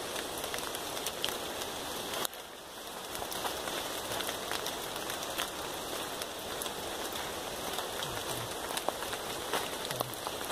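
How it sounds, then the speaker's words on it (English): Rain falling in the Mossman Gorge rainforest, a steady close patter of drops on leaves and surfaces with scattered louder splats, continuous and fairly soft, with no talking. "It's raining in the forest."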